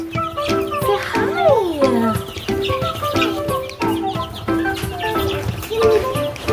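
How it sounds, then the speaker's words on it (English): Baby chicks peep in high, rising and falling chirps, several overlapping close by, with a voice murmuring faintly in the background. "These are baby chickies."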